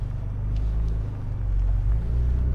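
A 2024 Ford Ranger Raptor grinds along a mountain off-road course, its engine a deep, steady, close rumble with faint creaks and knocks above it.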